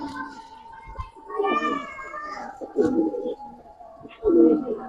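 Giribaz pigeons coo in low, throaty bursts close by, with a few louder swells late in the stretch. Faint children's voices and chatter sit underneath.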